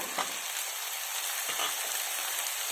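Potatoes and vegetables for tawa pulao fry in a pan, giving a steady, gentle sizzle with a few soft stirring knocks. It stays fairly quiet and continuous, with no talking over it.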